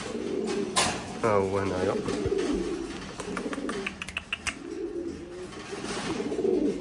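Pouter pigeons coo with soft, repeated throaty calls, with a louder burst of cooing partway through, while someone talks over them close by.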